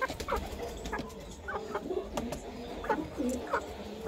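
Silkie hens in a crowded breeding loft give soft, repeated clucks and low coos at close range, with overlapping calls against a steady background hum.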